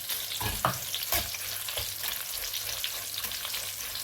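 Dried red chillies frying in a pan with beaten rice for an evening snack mixture, a continuous busy sizzle and crackle with a few soft knocks and stirring strokes, close and fairly loud.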